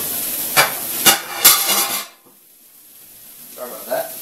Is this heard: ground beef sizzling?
yes